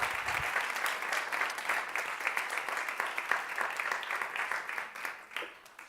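A church congregation applauds during a Spanish-language worship gathering, fairly soft and steady clapping that continues throughout and tapers off slightly at the end.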